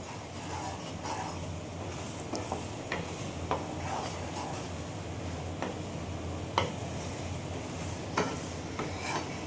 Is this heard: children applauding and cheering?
no